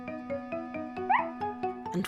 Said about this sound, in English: they heard Snuffy barking and barking.